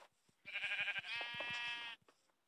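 Sheep bleating in a survival video game, two close, loud wavering bleats in quick succession with a soft background tone around them, no talk.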